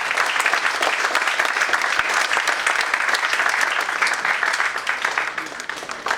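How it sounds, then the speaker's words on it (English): An audience at a one-day technology seminar claps steadily, a dense round of applause that continues for several seconds before tapering slightly at the end. "May we give her a big round of applause."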